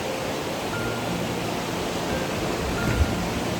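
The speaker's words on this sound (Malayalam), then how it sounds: "ഫുള്ള് പാറക്കെട്ടുകളുടെ ഇടയിൽ സൈഡിലെ അരുവി കണ്ടോ." Steady rushing water fills the clip, a dense continuous hiss of a stream tumbling between rocks in the Partnach Gorge near Garmisch, Germany, even and unbroken.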